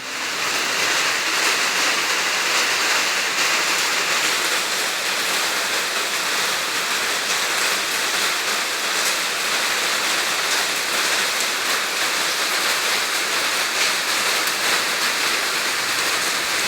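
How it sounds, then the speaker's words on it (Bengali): Heavy rain pours down in Hyderabad, a dense, loud, unbroken roar of water lasting the whole stretch with no voices. "দেখলেন তো এরকম বৃষ্টি হচ্ছে"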